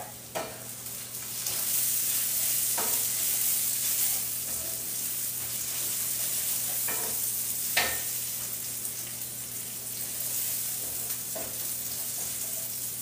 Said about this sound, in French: Je vais vérifier mes oignons qui sont en train d'être sautés derrière